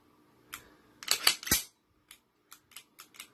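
Dry-fire trigger clicks on a Smith & Wesson M&P pistol, likely a law enforcement model, with the striker failing to hit. There is a cluster of sharp mechanical clicks near the start, then several fainter, evenly spaced clicks in a quiet room.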